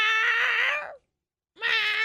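A human voice imitates a cat in heat caterwauling: two long, drawn-out, whining wails, loud and close, separated by a short silence.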